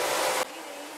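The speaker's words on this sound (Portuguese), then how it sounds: "aí eu gosto de usar o secador" A hair dryer blows a loud, steady airflow while drying a woman's hair, then cuts off abruptly about halfway through, leaving a quieter hiss.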